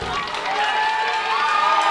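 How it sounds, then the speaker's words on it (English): A London Music Hall wrestling crowd cheers and shouts loudly in a continuous roar during a match, with no break in the noise. "this London Music Hall crowd very much behind the Violet Lee outburst here"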